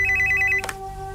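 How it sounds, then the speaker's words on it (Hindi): An electronic telephone rings in a rapid pulsing pattern over a steady background hum, then a sharp clatter cuts it off as the receiver is picked up. "अरे फोन बज रहा है"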